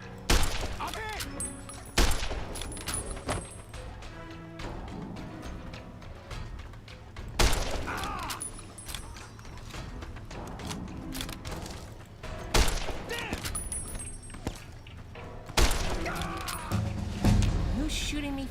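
Gunfire crackles in the video game Fallout: New Vegas as the player takes hits. Repeated sharp shots and bursts come at intervals over game ambience, with a person talking in between.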